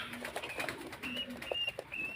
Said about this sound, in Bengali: এই যে দেখেন, এগুলো হলো কবুতর